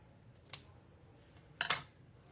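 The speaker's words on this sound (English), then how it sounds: "it has to be cut the same way, and that is going to be chopped off right there" Scissors snip through a paper card during card-making, with two crisp cuts: a single short snip, then a louder double snip a second later, close and otherwise quiet.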